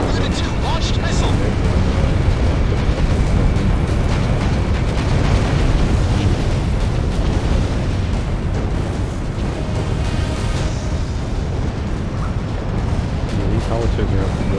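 Dense, continuous rumbling roar of combat in Ace Combat 6 as an enemy facility is blown up, with booming blasts and heavy low-end noise sustained throughout, overlaid by radio chatter.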